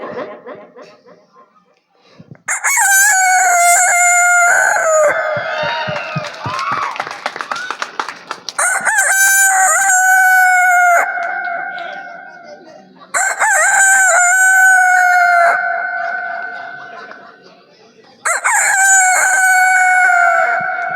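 A man mimics a rooster crowing on a comedy stage, producing four long, loud, close cock-a-doodle-doo calls, with stuttering clucks and chuckle-like sounds between the first two.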